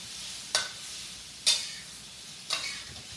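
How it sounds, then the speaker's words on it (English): Shrimp sautéing in a non-stick pan over medium heat, with three sharp scraping stirs spaced about a second apart, each fading quickly over a quiet background sizzle. "Now you want to turn the heat to medium. Give it a quick saute."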